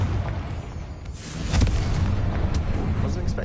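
Fiery blast from the Confringo spell in Hogwarts Legacy: a low booming rumble swells near the start and again around the middle, with a sharp crackling burst, loud and close.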